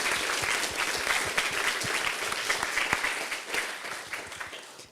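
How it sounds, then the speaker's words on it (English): Sustained applause from a conference plenary audience honoring winners, dense steady clapping that fills the hall for several seconds with no talk over it. "let's give a final round of applause for the winners."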